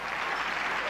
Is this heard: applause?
yes